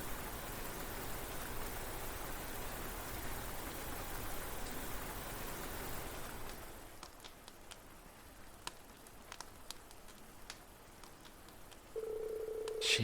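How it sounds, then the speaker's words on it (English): Rain in Trails of Cold Steel 4 falls as a steady, even hiss and patter for several seconds, then cuts off, leaving quieter scattered ticks and a brief tone. "Oh no, the rain's ruining their training."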